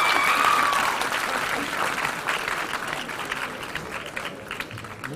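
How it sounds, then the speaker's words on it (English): Audience gives a round of applause, steady crowd clapping that slowly fades over a few seconds. "I think you need a big round of applause"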